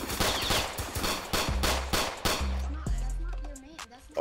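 Gunshots ring out in a Roblox hood roleplay game, a quick series of sharp repeated shots with low thumping hits toward the end, fairly loud and close.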